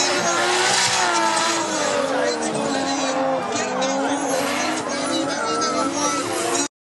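Drift cars sliding sideways at Anglesey Circuit during a European Drift Championship round, loud sustained engine roar and wailing tire squeal rising and falling over several seconds, with a commentator talking over it.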